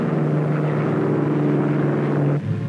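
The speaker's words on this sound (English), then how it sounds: "Airplanes commanded by Generals Kepner, Anderson, Quesada, and Wayland rolled off British fields to cover and directly support the Allied armies" World War II propeller airplanes rolling off British airfields for D-Day give a steady, loud, droning engine roar with a sustained hum, shifting slightly near the end.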